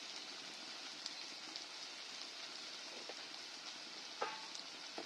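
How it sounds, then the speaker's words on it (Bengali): Chillies and a pinch of turmeric frying in a pan for handi chicken, with a steady soft sizzle throughout and occasional faint scrapes and clinks of stirring. "এবার ভালো করে নেড়ে দিচ্ছি"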